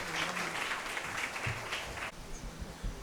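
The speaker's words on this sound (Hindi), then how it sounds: "एक मरतबा ज़ोरदार तालियों से इस्तकबाल" Steady crowd applause at a community gathering hall welcoming a guest speaker, dense continuous clapping that stays loud and fairly close for the whole stretch.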